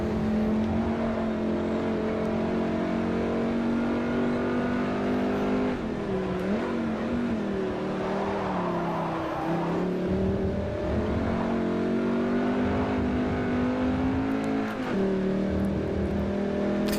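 Race car engine in Forza Motorsport 4 during a Class C European Tour race, a steady loud drone that rises and dips with gear changes and throttle over a long run, with no talking.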